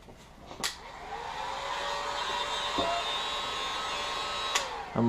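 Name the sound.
heat gun drying clay coat on knife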